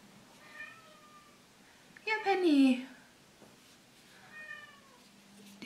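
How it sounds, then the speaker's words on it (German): A cat meows loudly once, a drawn-out wavering cry, with quieter meows before and after and brief speech nearby. "Im Hintergrund hört ihr die Katze jaulen."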